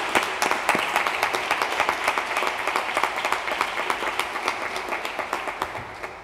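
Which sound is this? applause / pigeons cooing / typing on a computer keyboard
applause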